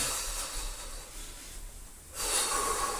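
Audible breathing of a person winded after a vibration exercise, a couple of heavy breaths with snort-like airy hiss, near and fairly loud, no talk.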